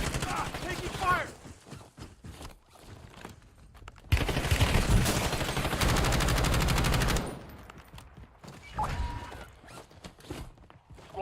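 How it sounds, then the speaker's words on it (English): Gunfire in Call of Duty: Warzone, with a sustained loud burst of rapid automatic shots in the middle and scattered quieter shots and movement noises before and after. "Ah, taking fire."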